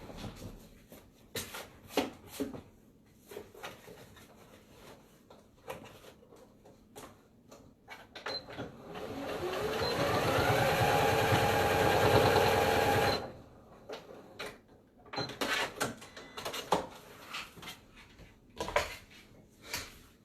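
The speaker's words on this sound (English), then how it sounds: "I'm just gonna stitch it with the machine." A sewing machine stitches down a fabric headband bow, its steady whirring run lasting several seconds amid quieter handling clatter before and after.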